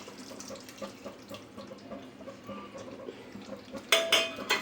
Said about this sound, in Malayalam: കുറച്ച് തേങ്ങാപ്പാൽ തലപ്പാൽ ഒഴിച്ച് കൊടുക്കട്ടെ